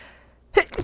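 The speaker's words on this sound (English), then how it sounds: "So glad I sneezed when I did." A single sharp human sneeze bursts out near the end after a near-silent lead-in, close and loud.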